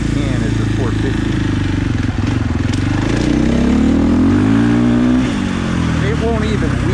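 A 2021 KTM 450 Factory Edition dirt bike, with traction control at maximum intervention, is ridden with the throttle rolled on smoothly, its engine note rising and falling in pitch and loud and close, while a rider talks over it.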